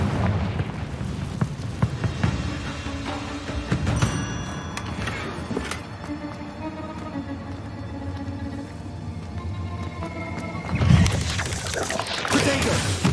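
Confringo fire spell in Hogwarts Legacy going off as a heavy blast: a deep rumbling burst with crackling debris, trailing into a rolling roar before a second sharp boom near the end.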